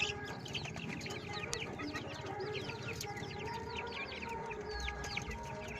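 Heavy-bodied short nose long tail roosters, around three kilograms each and kept for sale, cluck steadily close by, with a crow rising among dense chirping of other birds in the background.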